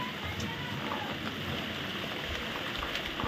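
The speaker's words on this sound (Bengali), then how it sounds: "বাইরে বৃষ্টি পড়ছে।" Rain falls outside at night during a power cut, a steady diffuse hiss with occasional drips and a faint voice in the background.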